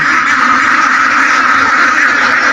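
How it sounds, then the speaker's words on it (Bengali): Loud, dense quacking from a crowd of ducks on a duck farm, overlapping calls with no pauses, close by. "অনেক ভালো ভালো হাঁস আছে।"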